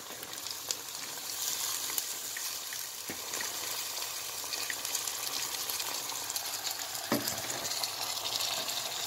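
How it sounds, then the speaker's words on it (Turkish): Ivy shoots frying with onions in a pan give a steady, dense sizzle throughout, fairly quiet and close, with occasional light scraping and stirring clicks. "soğanımız kavruldu. Şimdi sarmaşıklarımızı katıyorum."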